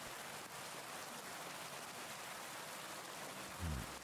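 Steady rain falls in Kingdom Come Deliverance 2, a faint, even hiss of continuous downpour with no pauses and a brief low thump near the end.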